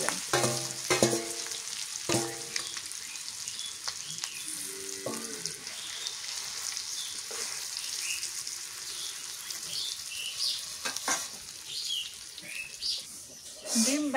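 Fish roe sizzles in fish oil alongside taro, a continuous frying crackle with intermittent stirring clatter and scrapes, some faint background sounds.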